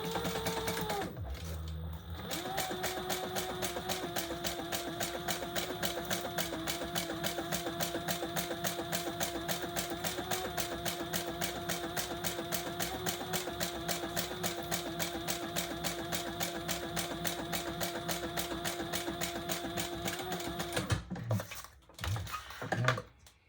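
A sewing machine stitching around tote bag pieces, a fast steady mechanical whir with rapid needle ticking, running continuously and close before stopping near the end with a few clicks.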